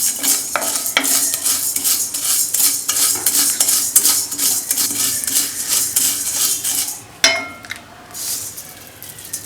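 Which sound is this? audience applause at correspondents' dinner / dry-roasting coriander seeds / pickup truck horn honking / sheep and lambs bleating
dry-roasting coriander seeds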